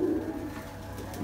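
A golden pigeon gives a short, low, throaty coo close by, one soft call followed by faint ambient noise.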